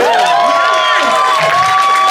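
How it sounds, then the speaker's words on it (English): An audience applauds and cheers for a comedian just brought up to the stage, a steady wash of clapping and crowd noise with whistled, shrill cheers riding on top throughout. "So I get a round of applause."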